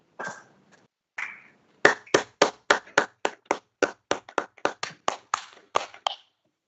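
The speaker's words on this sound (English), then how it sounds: "A round of applause, please." Audience applause at a formal gathering in Arusha, Tanzania, starting with a few hesitant claps, then a brisk run of close, rhythmic hand claps from a small group, with no speech over it.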